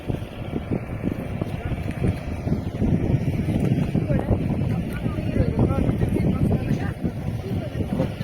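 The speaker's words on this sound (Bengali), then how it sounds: "আর এখানে বাতাস খুব জোরে বয়সে" Strong wind blows across Chilka Lake in Odisha, buffeting the microphone in gusty low roars, with a boat engine hum and people talking nearby.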